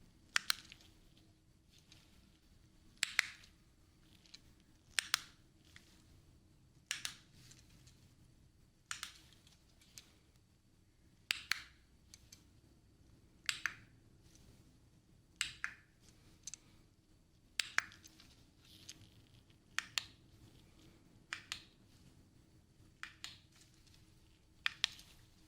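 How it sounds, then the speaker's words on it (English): A remote control is clicked again and again at a close distance during an ASMR hearing test. The sharp, faint clicks come at irregular intervals over a soft, steady background hiss, and no one speaks. "now we're moving on with those remote clicks again."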